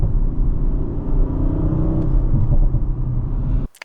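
Audi RS5 Competition Plus sports car exhaust rumbles at low RPM with a deep, steady engine drone and occasional light crackles, heard up close before cutting off abruptly at the end.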